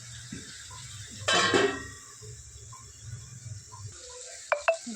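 Spoon stirring pumpkin vegetable curry with crushed peanut powder in a pan, with one loud clattering scrape near the middle, soft scraping and a pair of sharp clinks near the end over a low background hum.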